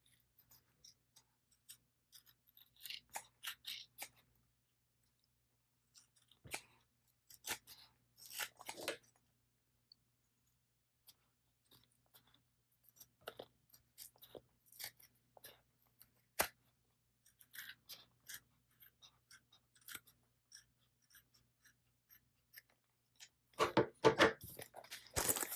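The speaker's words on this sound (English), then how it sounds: "And I'm gonna go ahead and trim the extra exterior here." Scissors trimming excess exterior fabric from a sling bag front panel, quiet crisp snips in short irregular bursts separated by silent pauses, with a denser run of cuts at the end.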